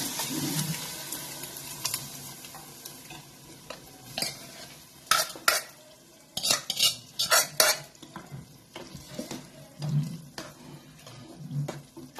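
Cooked whole masoor lentils are tipped into roasted masala in a pan, with wet slopping, metal spoon clinks and scraping against the pot arriving in irregular bursts, loudest through the middle stretch.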